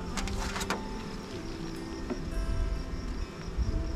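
Honeybees buzz around hive frames during a swarm, a close, continuous droning hum with some brief rattling handling sounds near the start.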